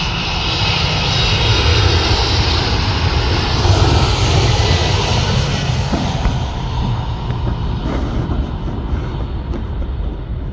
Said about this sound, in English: Boeing 767-34AF ER.